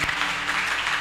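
Applause from a church congregation, a brief steady patter of many hands clapping together at moderate loudness.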